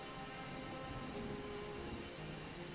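Steady rainfall in a forest area of the video game Stranger of Paradise: Final Fantasy Origin, a continuous even hiss of drops with no voices.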